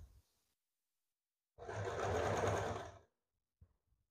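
A sewing machine stitches a double katori blouse in one steady run of about a second and a half, a fast even whir that stops cleanly, with soft handling clicks around it.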